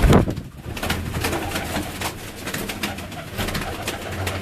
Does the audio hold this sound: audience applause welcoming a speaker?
no